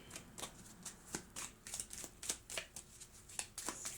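A deck of playing cards being shuffled up close, with repeated quick riffling bursts and soft snaps in an uneven rhythm, alone without any talking.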